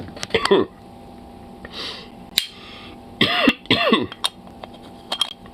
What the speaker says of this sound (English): I was coughing my fucking lungs out